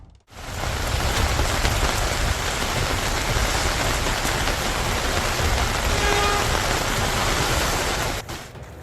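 Heavy rain pours down in Brooklyn, New York: a dense, steady roar of rainfall that holds at full strength for about eight seconds, with a faint car horn in the background, then cuts off abruptly.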